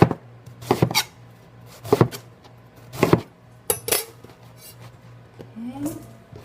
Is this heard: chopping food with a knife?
yes